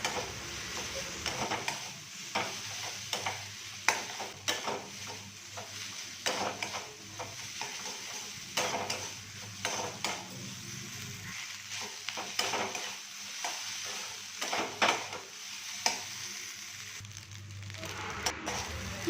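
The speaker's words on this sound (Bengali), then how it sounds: "এবারে হাই ফ্লেমে ভাজবো একটু ভালো করে ভাতটা" Cooked rice is stir-fried on high flame with a soy and tomato sauce mixture for egg fried rice, a loud continuous sizzle peppered with frequent clattering spatula scrapes and tosses, close up throughout, no speech.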